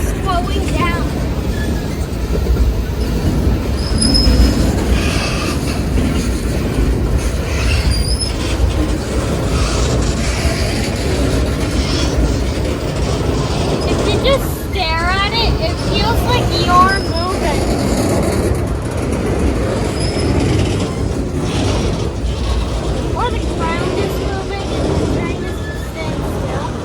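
A long freight train rolls steadily past close by, wheels and cars rumbling continuously with some squeal as it slows, while people talk now and then over it.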